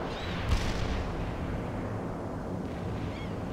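Light artillery shells land on enemy positions in the World in Conflict real-time strategy game, a dense rumbling barrage of blasts that starts with a sharp crack and rolls on as a continuous loud roar.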